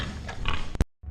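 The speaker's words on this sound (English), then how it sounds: "Those are the pigs we got in here." Pigs grunting and oinking in a farm pen, several close snorting calls in quick succession, followed by a sharp thump and a brief silence before low grunting resumes.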